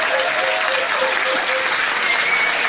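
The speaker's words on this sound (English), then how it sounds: "Give them a huge, great big cheer." Loud, steady applause with cheering from a pub quiz night crowd at The Granta, dense continuous clapping with scattered voices calling out over it.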